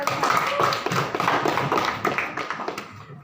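A school class claps hands together in a classroom, a dense, steady patter of many hands that fades out near the end, with no talk over it.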